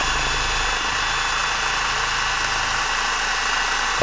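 An ALLSOME 400 Nm cordless impact wrench running at its first speed: a steady, loud, continuous motor whine with broad hiss, constant throughout and nearly alone, with a slight shift at the very end.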